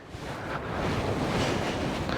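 Steady wind roars and buffets the microphone outdoors on a beach on the Bristol Channel, South Wales, a constant rushing noise with no voices.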